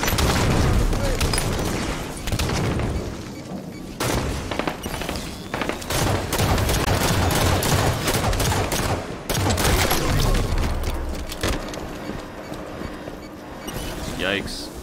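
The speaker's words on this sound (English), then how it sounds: "Watch enemy fire!" Heavy enemy gunfire and booming blasts in a Halo 5 match, sustained volleys with brief gaps, loud and near, with people talking over the fighting.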